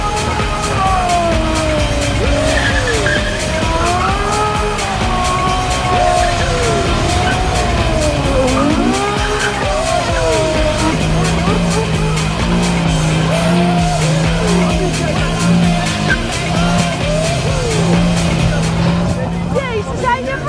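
A car speeds away with long, loud tire squeals and skidding over a revving engine, the squeal sweeping up and down for many seconds while voices shout in the background.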